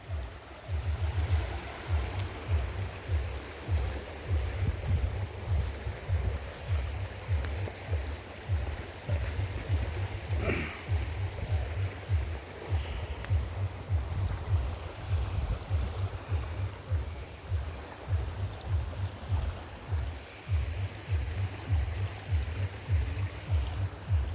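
Pidok River flowing past the bank, a soft continuous wash of moving water with low pulsing rushes and gentle splashes, moderately quiet and steady, with no talking.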